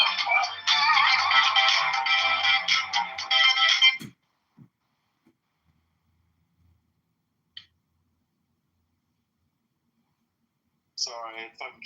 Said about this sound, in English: Sorry, if I can keep getting phone calls.